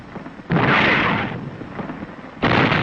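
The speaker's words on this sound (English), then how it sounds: "Artillery commenced to bombard the city, directed by observers manning our OPs." Artillery bombarding the city of Naha, Okinawa, sounds as two heavy, booming blasts a couple of seconds apart, each with a rumbling decay over a low background.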